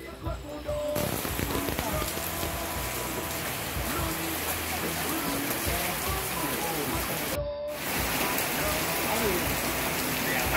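Rain falls steadily at a nighttime 4x4 offroad challenge event, a dense continuous hiss of drops with a brief cut partway through.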